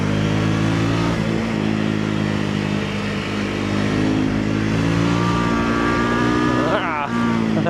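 A 2024 Triumph Scrambler 400X motorcycle engine drones steadily while riding, with a continuous harmonic hum, shifting revs and a rising pitch sweep near the end, and someone talking throughout.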